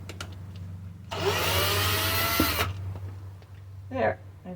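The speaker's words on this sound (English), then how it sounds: "And drill about 4 holes in" A power drill bores a few holes for about a second and a half, a loud whirring burst over a steady low hum, then short clatter and a brief tool noise near the end.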